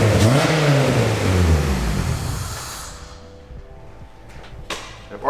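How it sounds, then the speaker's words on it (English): A car engine catches and revs just after an ECU upload, rising and falling loudly for a couple of seconds before settling into a quieter idle with faint hiss. "we're just going to make sure the car starts and runs"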